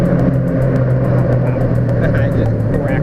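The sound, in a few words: Ford Mustang engine revving with exhaust crackle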